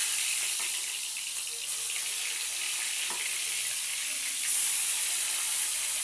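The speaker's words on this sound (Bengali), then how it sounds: "মাছগুলো আমি এবার একে একে সব ভেজে নেবো।" Fish frying one piece at a time in hot oil on a home kitchen stove, a steady broadband sizzle that holds evenly throughout and brightens a little toward the end, with no talking.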